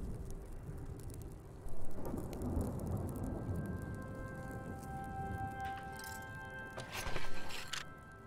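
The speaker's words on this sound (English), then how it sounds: "Oh no, it's raining on us now." A steady wash of rain with rumbling thunder in the game Smalland, a deep roll building midway and a sharper crack later, with faint tonal game sounds over the downpour.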